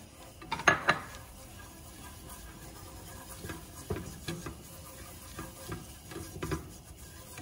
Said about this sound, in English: We're gonna whisk this for 1 minute just to cook out all that flour flavor.